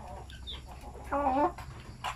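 Chickens raised for meat clucking softly in short, irregular calls over a low steady hum, with one louder burst of clucks midway.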